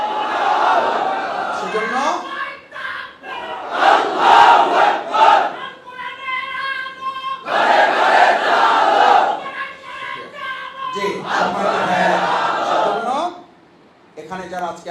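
A large rally crowd in Hazaribagh roars a chanted reply of Allahu Akbar to the Nara-e Takbir call, loud bursts of massed voices alternating with a man's amplified speech.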